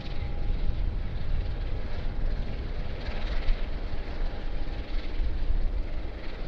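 Jetstar airliner arriving on runway 16 left at Sydney Airport, a continuous low jet rumble at moderate distance with no talk over it.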